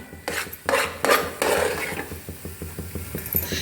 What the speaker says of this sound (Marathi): मंद आचेवर खव्याचे मिश्रण घट्ट करून घेऊया।